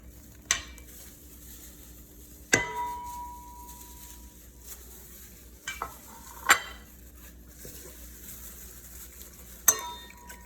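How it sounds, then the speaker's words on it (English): Onions simmering in lime juice and vinegar for tiritas, with a faint continuous sizzle broken by several sharp clinks and scrapes of a utensil against the pan, spaced a few seconds apart. "we're gonna let the onions cook in the lime juice and the vinegar as well."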